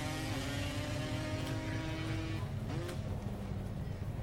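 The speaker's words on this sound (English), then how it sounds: "Race drivers fire up their engines to see who has the fastest lawnmower in town." Racing lawnmower engines roar at a Father's Day race in Grand Island, New York, a steady loud drone with rising and shifting whine, no talk over it.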